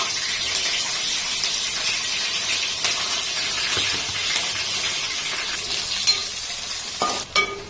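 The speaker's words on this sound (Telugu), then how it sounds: "ఉల్లిగడ్డలు కొంచెం వేగినాయి కదా" Onions and green chillies fry in a pan with a constant loud sizzle close by, broken by a few stirring scrapes and clinks toward the end.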